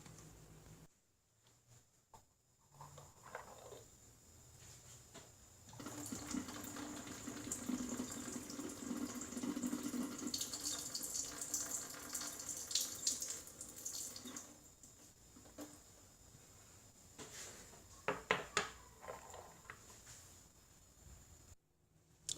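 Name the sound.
water pouring from Yixing clay teapots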